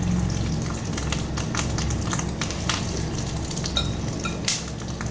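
Fish-roe fritters (bora) frying in a pan of oil give a continuous close sizzle, with faint spatula scrapes and small bubbling pops across the stretch.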